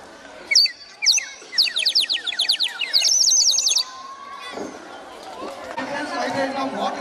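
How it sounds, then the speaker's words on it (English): Bird calls at a school science club inauguration, a quick run of bright chirping trills lasting about three seconds, followed by a crowd chattering in the background. "Now it is bird sound."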